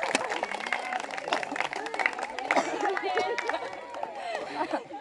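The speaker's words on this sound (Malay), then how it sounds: "bagi tepukan" An audience at a rooster contest claps in a dense, steady burst of applause, with crowd chatter and voices mixed through it.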